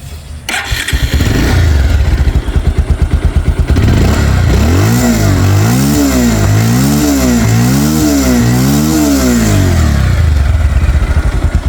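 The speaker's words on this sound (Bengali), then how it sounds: "দর্শক গাড়িটা স্টার্ট করে সাউন্ড কন্ডিশন দেখাবো" A Bajaj Pulsar 150 double-disc ABS motorcycle cranks and fires up, then idles before a series of rhythmic throttle revs rising and falling, loud and close.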